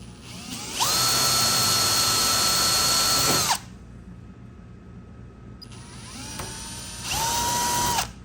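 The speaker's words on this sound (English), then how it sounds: "I'm going to start out by drilling a pilot hole with it." A power drill bores a pilot hole with a 5/64 inch bit while installing a door handle and trunk emblem on a 1964–65 Mercury Comet. Two loud, steady whining runs, the first about three seconds and the second shorter, are separated by a quieter pause.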